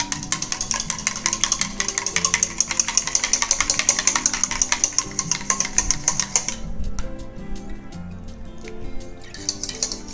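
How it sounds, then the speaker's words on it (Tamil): Cream is beaten by hand in a bowl while making avocado cream: quick, steady clinking strokes against the bowl for several seconds, then softer, sparser taps, with no talking. "க்ரீமை ஊற்றிட்டு நல்லா கொஞ்சம் அப்படியே அடிச்சுக்கலாம்."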